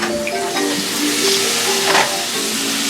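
Chicken pieces for orange chicken fry in hot oil, giving a close, steady crackling sizzle with light bubbling and occasional stirring.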